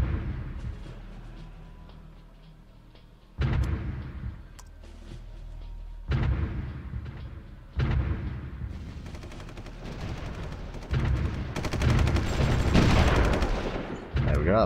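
Artillery and gunfire from the strategy game Supreme Ruler Ultimate arrive in loud abrupt bursts, several sharp onsets of booming fire and rattling shots stacking into a dense, continuing barrage.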